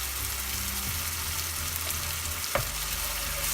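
Ginger garlic paste frying among browned onions for a pomfret fish curry, a soft, even sizzle with a low rumble beneath and one sharp scrape of a spoon near the end.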